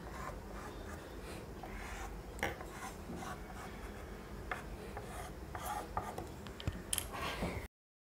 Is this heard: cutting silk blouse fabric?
yes